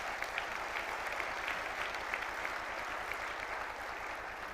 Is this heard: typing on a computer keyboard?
no